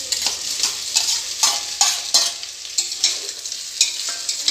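Paneer pieces stirred through vegetable fried rice in a hot pan, a steady sizzle broken by a dozen quick scraping strokes of the spatula at an uneven, brisk rhythm, close and fairly loud.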